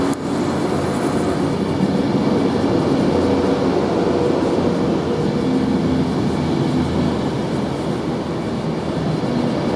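Class 390 Pendolino 390-148 and Class 350 unit 350-124 on the London Northwestern Railway service passing through Coventry station: a loud, continuous rumbling roar of wheels and traction that stays heavy for the whole stretch, with no voices.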